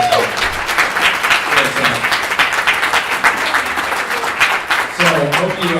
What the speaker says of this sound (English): So give those people a round of applause that traveled in to experience this.